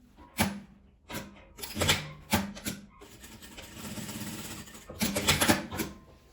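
A sewing machine stitching the lining of a small zippered fabric pouch, short bursts of rapid mechanical stitching broken by pauses and fabric handling, then one longer steady run, close and fairly loud.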